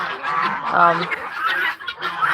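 Guinea fowl raised in a poultry pen give harsh, honking calls in a quick, uneven series, close by and fairly loud.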